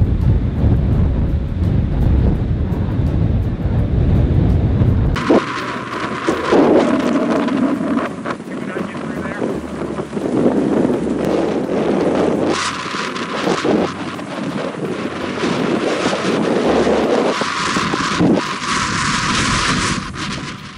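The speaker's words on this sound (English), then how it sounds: "A bit windy." Strong coastal wind during a cold front roars and buffets the microphone steadily for twenty seconds, mixed with surf and water wash, loud and unbroken, with no voices.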